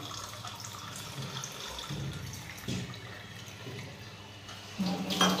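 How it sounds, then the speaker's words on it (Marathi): Water pours and splashes into a vessel, a gurgling flow that rises louder toward the end, with faint clinks of cookware. "आता मला याच्यात पाणी टाकायचं मित्रांनो आपल्याला"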